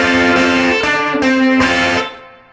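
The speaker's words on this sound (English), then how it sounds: "So I pick it and then strum it the full chord 3 times" An electric guitar playing a part of a song: single picked notes followed by full chord strums, three struck chords ringing with sustain before fading out, close and loud with no voices.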